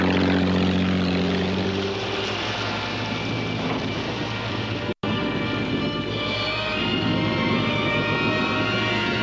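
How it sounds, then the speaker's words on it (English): A steady boat engine drone with a propeller-like hum as the boat speeds away, continuous and fairly loud throughout, briefly cut by a short gap midway. "I saw the strange boat speeding away."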